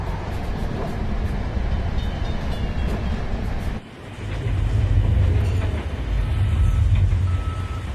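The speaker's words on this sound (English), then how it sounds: "The train pulls into Moscow in the early hours" A train pulls into Moscow in the early hours. It makes a steady, heavy low rumble of running carriages, with a short dip at the midpoint before the rolling noise builds again. No one speaks.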